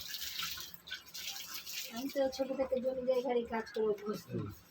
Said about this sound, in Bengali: এবার বাকিগুলো জলটা দিয়ে দিব পুরোটা